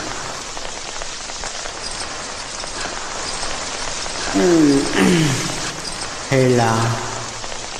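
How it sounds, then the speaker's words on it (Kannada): Heavy rain pours steadily with wind, a dense hiss on surfaces throughout, while a person speaks over it in two short bursts. "ಈ ಮಳೆಗಾಳಿಗೆ ಏನು ಕೇಳಿಸಲ್ಲ ರೀ"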